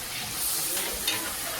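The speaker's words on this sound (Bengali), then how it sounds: "এই যে সবজি ভাজছে" Vegetables sizzling in a pan while being stirred, a dense continuous hiss of frying heard close and steady for a brief moment, with no talk.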